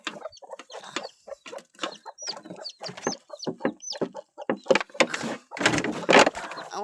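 Hens clucking and squawking nearby, a busy flurry of short calls with occasional higher cries, growing louder and noisier toward the end.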